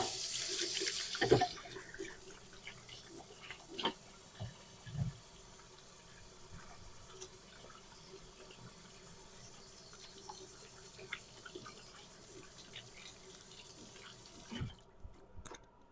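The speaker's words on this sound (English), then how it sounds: "Wash our hands." Tap water running into a sink while hands are washed in a home kitchen, a faint steady stream with small splashes and clatters, no talk.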